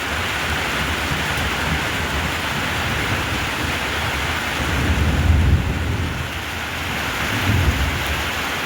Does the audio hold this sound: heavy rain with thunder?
yes